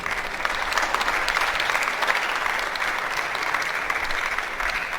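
Audience applause at a university orientation programme for fresh students, a dense, steady wash of many hands clapping at even loudness throughout.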